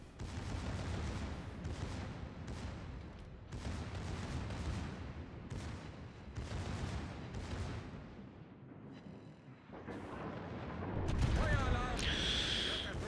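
Cruiser cannon broadsides boom repeatedly in World of Warships, a steady series of heavy gunfire bursts about every second. Later come louder rumbling impacts and a whistling effect, with game noise throughout and someone talking over it.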